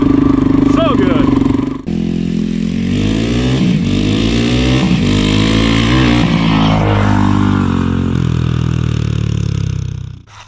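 A Honda ATC200x three-wheeler fitted with a swapped TRX200SX engine revs and accelerates loudly up close, the engine note rising and falling through several throttle changes before cutting off near the end.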